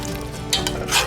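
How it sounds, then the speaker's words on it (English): A spoon stirs chicken into a simmering pot of Louisiana-style comfort food, giving soft scrapes and a couple of light clinks over a faint bubbling sizzle, close up and brief. "And you're gonna stir this in."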